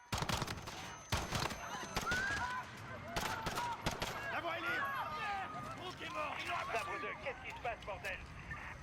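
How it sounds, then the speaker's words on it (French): Gunfire in Call of Duty Modern Warfare: sharp bursts of shots early on, then scattered impacts beneath chaotic game sound effects and shouted radio-style voices filling the rest of the scene. "Des coups de feu, plusieurs agents touchés."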